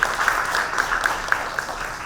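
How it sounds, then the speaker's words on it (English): An audience at a sensitization programme and memorial lecture gives a round of applause, a dense crowd clapping with a few sharper individual claps standing out, steady throughout and without talk. "Please give him a big round of applause."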